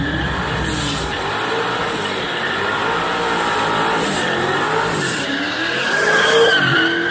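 Racing car engine roaring and revving with tire squeal and skidding throughout, loud and close, rising slightly toward the end, with no talking.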